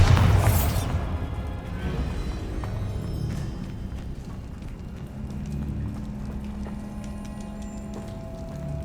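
A Bombarda spell explosion from Hogwarts Legacy opens with a loud, sharp burst at the very start, then trails into a sustained low rumbling and crackling, like debris settling, that carries on to the end.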